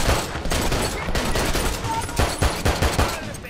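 Rapid bursts of automatic gunfire and pistol shots in the video game Army of Two: The Devil's Cartel, loud and dense with repeated volleys, while a voice talks underneath.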